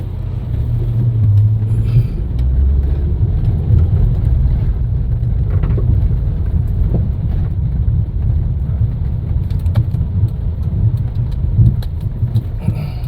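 A tractor drives through Vientiane street traffic, its steady low engine rumble loud and continuous alongside passing cars, with no talking.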